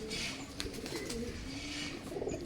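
Good-quality pigeons kept at home, with low, close cooing calls repeating in short phrases alongside a few faint chirps, quiet and without talk.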